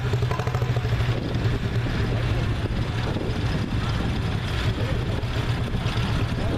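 A 44 Massey tractor owned by Lauren Larson rolls along in a parade, its steady engine rumble close and continuous with a low throbbing idle underneath throughout.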